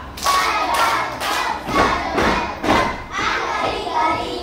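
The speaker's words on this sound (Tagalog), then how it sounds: "bigyan natin si Matt ng magaling na palakpak" A classroom group of children claps together in firm, rhythmic bursts roughly twice a second, with dull thuds of hands and some faint chatter in the background.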